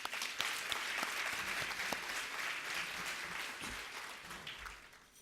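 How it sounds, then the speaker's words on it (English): Audience applause at a healthcare diversity gala, a sustained wash of clapping at moderate distance that gradually thins and fades toward the end, with a few sharper claps standing out. "How about another round of applause?"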